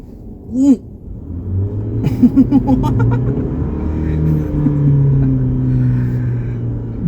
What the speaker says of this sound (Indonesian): Kayak gimana sih tarikannya GWM Tank 500 dengan bodi segede gini dan mesinnya bensin.